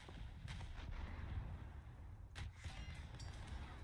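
Ship's gun salvo in War Thunder naval battle: deep, muffled booming rumble with a couple of sharper cracking blasts, distant-sounding and fairly quiet, no voices.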